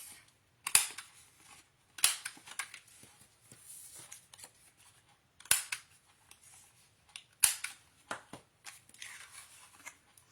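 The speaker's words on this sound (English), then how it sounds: "I need to round the bottom corners of the cardstock piece and the designer paper piece" Corner punch rounding the bottom corners of cardstock and designer paper for a scrapbooking mini album, sharp close clicks and snaps in uneven bursts separated by quiet handling rustles.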